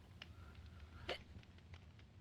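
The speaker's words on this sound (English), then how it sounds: "only got the hiccups" A single faint hiccup from a person partway through, soft and brief over a steady low background hum, with no talking around it.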